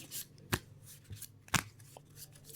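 Tarot cards shuffle and fall with soft papery riffles and two sharp, crisp slaps standing out against quiet surroundings, close by and fairly faint overall.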